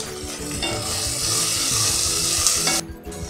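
Small onions sizzle and fry in hot oil for a village-style mutton kuzhambu, a steady loud crackle with occasional stirring scrapes, easing off near the end.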